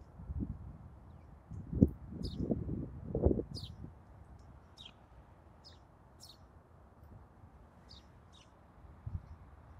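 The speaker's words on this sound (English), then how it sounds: "There are birds in the bush." Small birds in a bush in a snowy setting give scattered thin, high chirps and calls over soft rustling and low outdoor noise, faint and somewhat distant, with no talking.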